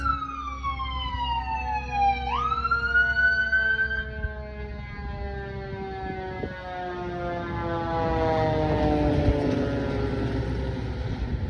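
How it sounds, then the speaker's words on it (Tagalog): A fire truck siren in a Canadian residential neighbourhood near a car crash, wailing up and down as it approaches, then sweeping lower as it passes, moderately loud and fairly close, with no talk over it. "It's a fire truck."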